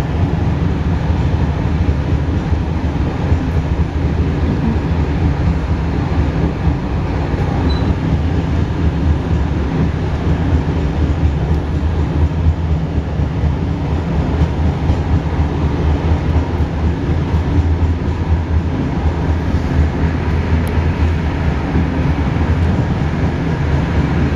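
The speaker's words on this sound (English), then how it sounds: "so you can enjoy the train sounds and the scenery without my commentary" A passenger train between Cairo and Aswan, Egypt, rumbles steadily along the rails, a loud continuous roar with faint rhythmic clacking underneath, no voices.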